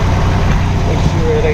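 Buick Grand National engine running with a newly installed 67/66 turbo, a steady loud low rumble held evenly throughout at close range.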